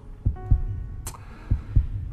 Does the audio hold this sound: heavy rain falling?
no